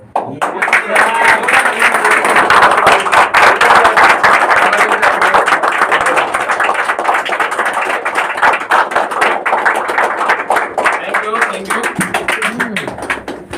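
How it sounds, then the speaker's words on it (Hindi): An audience at a Vestige business presentation claps loudly and steadily, a dense crowd applause that swells quickly and holds for many seconds before thinning slightly toward the end. "जोरदार तालियां अगेन"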